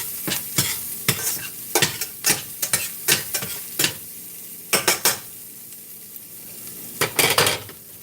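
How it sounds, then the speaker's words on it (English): Vegetables lightly sautéed in a pan before potatoes go in, with steady sizzling under repeated scraping stirs of a utensil against the pan, close and fairly loud. "This is what you call a light saute."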